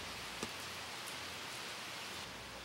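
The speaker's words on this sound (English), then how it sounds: "As I hauled equipment into the mansion, it began to rain outside." Rain falling outside a mansion during a brief shower, a steady, even hiss of rainfall that continues unbroken and alone throughout.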